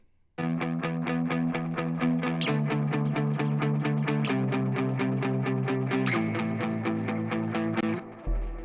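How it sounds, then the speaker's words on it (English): Loud, heavily distorted electric guitars chug out a steady rhythmic riff, chords shifting every couple of seconds, ending in a brief low thump. "And now here they are with the distortion."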